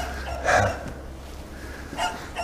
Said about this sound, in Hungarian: Jó, a kutya már ugat.